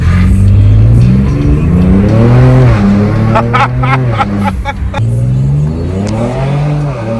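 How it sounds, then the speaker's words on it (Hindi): A Ford Raptor pulls hard with an aftermarket blow-off valve, its loud, close engine droning and sweeping up and down in pitch. A cluster of short sharp bursts sounds midway through. "we're gonna show you a pull in the Raptor with an aftermarket BOV"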